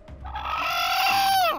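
A single Polish chicken lets out one loud, drawn-out call close by, rising and holding briefly before cutting off, heard on its own.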